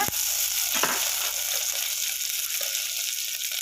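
Dry red chillies, broken by hand, frying in hot oil with onion for a Karnataka-style sambar, giving a steady close sizzle throughout with a couple of brief sharper crackles near the start.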